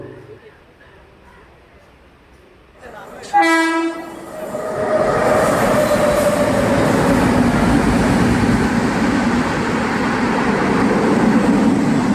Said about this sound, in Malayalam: ആ ട്രെയിൻ ഇതിലൂടെ കടന്നു പോയാലേ നമ്മുടെ ട്രെയിൻ ഇപ്പോൾ ഇനി ചേർത്തല റെയിൽവേ സ്റ്റേഷനിൽ നിന്ന് വീണ്ടും പുറപ്പെടുകയുള്ളൂ